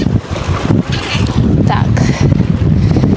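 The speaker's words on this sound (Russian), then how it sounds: "Ветришка, конечно, раздувает прям неплохой такой." Strong wind blasts across a small Magnum Pro 2 fishing boat on choppy water, heavy gusting roar and microphone buffeting with splashing, a brief spoken word partway through.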